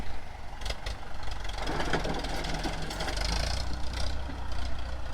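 A tractor grades and finishes the last stretch of a new laterite dirt road into an orchard, its diesel engine droning steadily and fairly close throughout, with a deep low rumble and some clanking.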